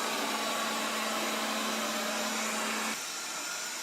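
A Proscenic 820S robot vacuum cleaner runs with a loud, steady motor whir and brush hum, working under a sofa; the tone drops and softens near the end.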